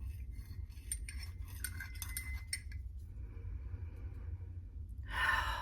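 Peppermint herbal preparation being stirred in a cup or bowl, with light clinking and scraping of a spoon against the container in short bursts, close and fairly quiet, followed by a louder brushing swish near the end.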